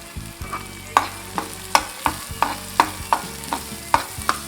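Finely chopped cabbage and peas stirred and frying in a pan for veg keema samosa filling: a close, continuous sizzle punctuated by regular sharp scraping knocks of a spoon against the pan, roughly two or three per second.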